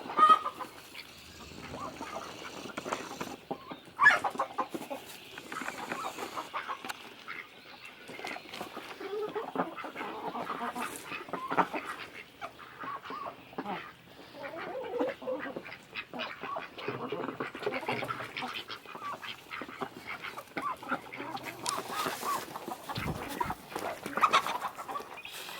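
Chickens and ducks on a farm: clucking hens mixed with quacking ducks, an ongoing irregular chorus of calls at close to middle distance with a few louder bursts, no talk over it.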